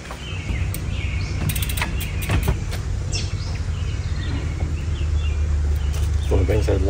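A camper van's sliding door fitted with bug screens is pushed shut, giving a brief sliding rumble and a clunk close by over a faint outdoor background at a state park campsite.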